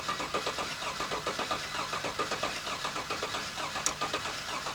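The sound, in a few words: car engine cranking with valve cover off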